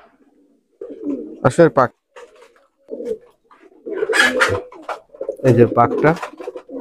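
A female Nildumma pigeon coos in a few soft, separate bursts close by, alternating with someone speaking in between.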